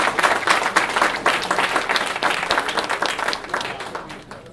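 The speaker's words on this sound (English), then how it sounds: "Y'all big hand clap." Lively audience applause and hand clapping at an Organo Gold promotional event, dense individual claps close and loud, gradually tapering off toward the end.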